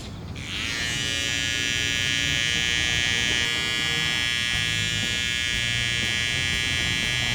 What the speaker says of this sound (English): And just being really light with the clipper.